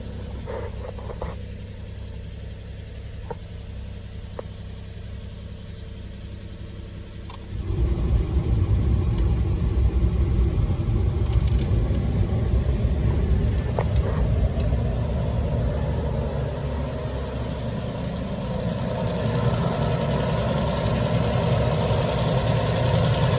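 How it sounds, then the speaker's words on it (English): Mitsubishi Montero Sport 2002 with the 6G74 V6 idling steadily after a timing service, a low rumbling engine close by with a ticking lifter clatter, a quieter stretch first and then a louder sustained idle. "That's just the lifters on these things are loud."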